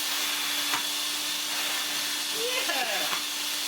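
A Vax Rapide 5150 3-in-1 vacuum cleaner runs with a steady, loud, broadband whooshing roar close by, and a few faint thumps and squeaks come through partway.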